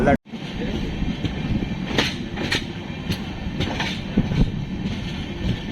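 The Amrit Bharat Express departs Malda Town station, rumbling steadily with rhythmic clicks from the wheels, a continuous loud rolling noise with faint voices in the background.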